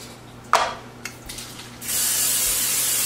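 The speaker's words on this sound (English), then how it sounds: "spray the inside of my air fryer with olive oil spray" Olive oil spray is sprayed inside an air fryer: a short sharp hiss followed by a few clicks, then a long steady close spray hiss to the end, with no talking.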